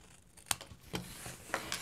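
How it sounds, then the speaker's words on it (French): Scissors cut a small paper gift box for a lipstick. Four short, crisp snips land unevenly over a quiet, close background. "je vais couper un petit peu en dessous de mon pli sur les deux"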